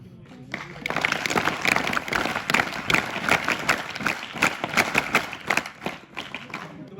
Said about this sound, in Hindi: इनके लिए एक ताली स्काउट वाले सर जरूर बताएं